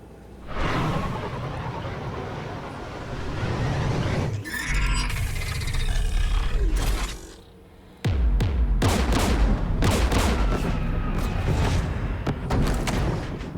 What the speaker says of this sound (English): We're taking fire. The Geth installed anti-aircraft guns beside the jamming tower.